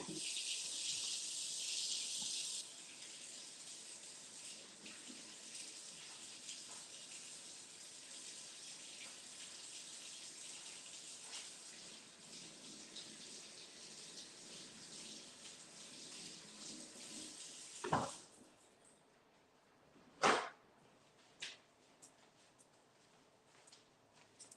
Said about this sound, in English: So I'm going to wash my hands, you guys.